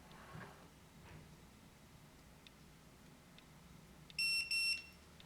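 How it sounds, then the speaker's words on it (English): Two short, high-pitched electronic beeps from an electronic keypad deadbolt sound close together near the end, following several seconds of quiet room hiss. "Press and hold the set button for 2 seconds until it beeps"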